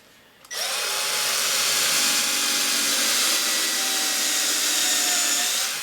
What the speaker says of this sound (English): So I just drill those so that that recess part just touches the surface, and then I back out